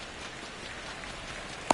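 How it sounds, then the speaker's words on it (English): Steady rain falls on a baseball field in the MLB The Show 25 video game, a continuous even hiss of drops with one brief sharper tap near the end and no voices. "the field's not going to be able to hold up if the rain gets any worse than this"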